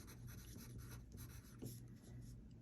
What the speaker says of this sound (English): So I'm gonna write template